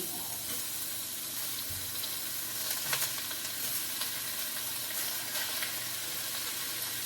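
Ground turkey meat sizzles steadily in a hot pan for spaghetti sauce, a continuous close hiss with a few brief louder crackles and no talking.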